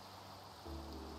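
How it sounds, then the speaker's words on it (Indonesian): Steady rain falling in a video game, a soft continuous hiss that swells slightly louder partway through the short stretch, with no talking. "Hujan pula."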